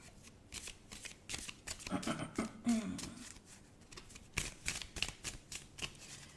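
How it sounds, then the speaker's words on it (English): Tarot cards are shuffled by hand, a rapid run of riffling flutters and soft slaps repeating close by, with faint speech in the background. "Let's get some cards out."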